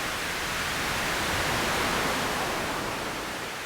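Steady broadband hiss from a stochastic filter bank synthesizer forms a smooth, even wash of noise that holds at moderate level, a little like rushing water, and no voice is heard over it.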